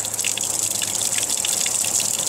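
Water flows out of a crack in dry cave rock, making a steady, close, hissing trickle with light splashing that holds constant throughout, with no talking.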